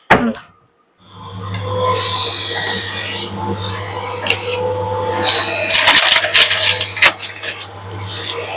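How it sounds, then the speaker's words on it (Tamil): After a brief startup, an optical shop machine polishes an eyeglass lens before fitting with a loud, continuous grinding whir and a steady hum underneath, broken by intermittent rasping surges. "இப்போ இது வந்து பாலிஷ் பண்ணிட்டு ஃபிட் பண்ணிடுவாங்க"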